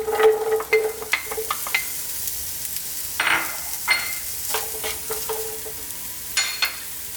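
Chopped garlic and onions frying in olive oil in a pan, a steady crackling sizzle with scattered pops and clinks of stirring, close and alone without talk.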